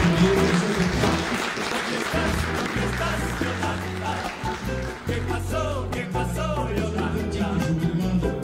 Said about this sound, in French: Et vous pouvez applaudir le secrétaire.